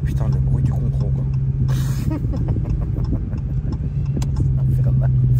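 A 1000 hp street dragster drives along a road, its engine a loud, steady rumble with a sustained droning whine running underneath, while people talk over it throughout.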